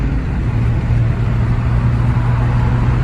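A Seat Altea 2.0 FSI engine runs steadily at close range, a loud continuous low drone with a faint tonal hum, no talk over it.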